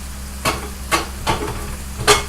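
Hamburgers sizzle in a pan on low heat, a quiet steady frying hiss broken by four sharp scraping clicks of a utensil against the pan.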